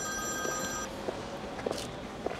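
An old-style telephone bell rings in a drama scene, a steady metallic trill that cuts off partway through, followed by faint room noise and small clicks, with no talking.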